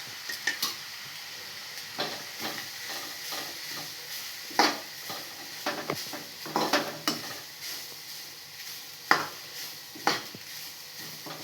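Ground coconut and garlic roast in a pan for idli podi, soft sizzling under repeated scraping and stirring clicks of a spoon against metal, close and irregular.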